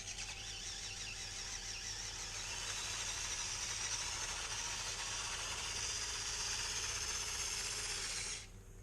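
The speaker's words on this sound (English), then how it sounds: "With a bit of wheel spin, it has just managed to get up there, and that's 43 centimetres incline." Small FTX Mini 1/24 scale RC car whining steadily as it climbs a steep 43 cm incline with some wheel spin, a continuous buzzing motor sound that stays even for several seconds before cutting off.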